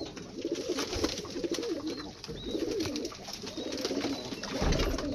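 Pakistani pigeons coo repeatedly in a breeding loft, soft rolling calls that repeat over a steady background hum.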